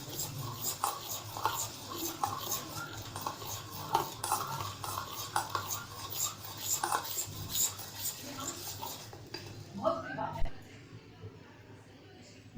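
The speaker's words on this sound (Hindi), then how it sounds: "जी हम अब इसमें मैदा डाल रहे हैं, थोड़ा थोड़ा डालते जाएंगे और इसको मिक्स करते जाएंगे" A spoon stirs flour into chocolate cake batter in a bowl, giving repeated soft scraping and clinking strokes close up, with a voice talking over much of it.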